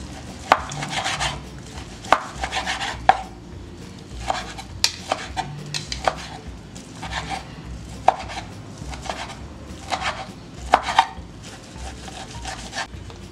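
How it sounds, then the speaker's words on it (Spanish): Cooked meat for nachos is chopped with a knife on a board, sharp, separate strikes landing in uneven bursts with brief pauses, close and clear, with no talking. "vamos a picarla para hacer nuestros deliciosos nachos"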